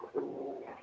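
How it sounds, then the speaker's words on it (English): A Great Dane barks once, a single short, deep bark heard at a modest distance and not very loud, with no talking over it. "They're Great Danes, so they have a big bark."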